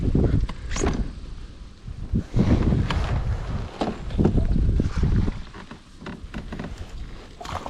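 Wind gusting on open water during a bass fishing outing on Mactaquac, a broad, steady rush with buffeting gusts and microphone wind noise throughout, with occasional knocks and splashes from the boat.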